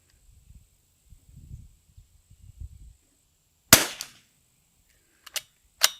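Three sharp rifle shots from a Zermatt Arms RimX rimfire rifle at a shooting range, the first loud and ringing, followed by two quicker, fainter cracks, with low rustling and handling noise before.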